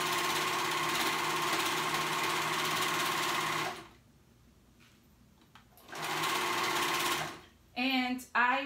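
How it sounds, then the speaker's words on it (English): A sewing machine stitches slowly through gathered dress ruffles, a steady close-up mechanical whir that runs for several seconds, pauses, then starts again briefly before a voice begins speaking. "sewing, going slowly so I can catch all those ruffles"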